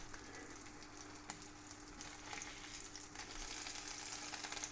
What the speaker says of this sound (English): Well, fry relatively gently, and then we're heating them all the way through.